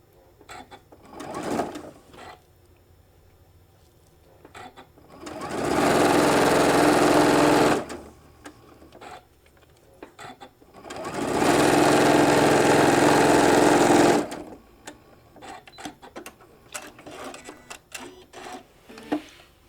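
Sewing machine stitching a shoulder bag, running in two sustained, loud bursts of about three seconds each, with quieter handling and clicking sounds between and around them.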